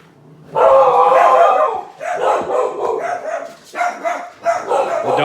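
Several dogs bark and yip excitedly at close range, a continuous overlapping chorus with brief dips.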